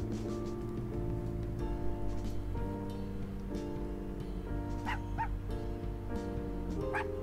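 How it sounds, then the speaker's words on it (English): Dogs in the Unsighted video game bark and yip over a sustained musical backdrop, several short barks and whimpers scattered through the clip at moderate loudness. "Tobias can finally pet the dogs."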